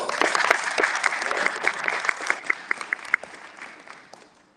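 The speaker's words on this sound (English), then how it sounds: "Give us a round of applause." A room of listeners applauds after a climate activism talk at EarthX. Many hands clap at first, then the applause thins to a few scattered, distinct claps and fades out toward the end.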